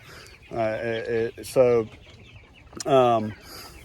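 Meat chickens cluck and call nearby in a few drawn-out, throaty bursts separated by short pauses.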